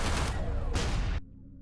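Flak cannon fire from a spacecraft turret in the space combat video game EverSpace, with two dense, loud blasts of booming noise back to back before the sound cuts off abruptly.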